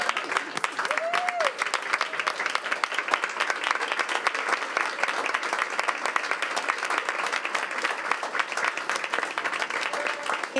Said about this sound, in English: Let's stand and give them applause, and please come up.